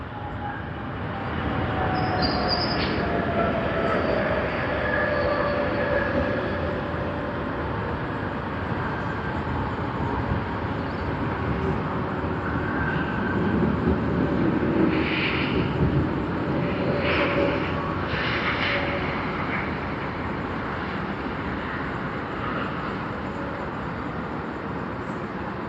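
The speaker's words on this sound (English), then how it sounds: "Korean Air K401 on the Boeing 787-10 Dreamliner." A Korean Air Boeing 787-10 Dreamliner arrives at Sydney Airport, its steady jet roar sustained and fairly distant, with engine whine tones shifting through the pass and no talk.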